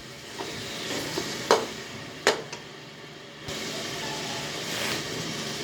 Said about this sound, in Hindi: ये आयल में हमने डाले हुए हैं, इनको अच्छी तरीके से फ्राई करेंगे।